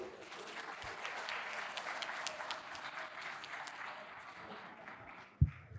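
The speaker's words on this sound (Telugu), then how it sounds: "గట్టిగా మరొకసారి చప్పట్లు" Applause from an audience at an Ugadi festival function, steady moderate clapping that holds throughout, with a sharp knock near the end.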